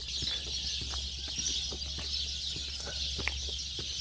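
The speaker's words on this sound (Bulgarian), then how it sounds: "О, пеят птичките." Steady high chirping and twittering of many birds, with scattered sharp clucks and calls over a low constant background hum.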